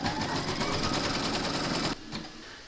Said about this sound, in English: Pop your hoop into your machine, and then you're going to stitch round number 1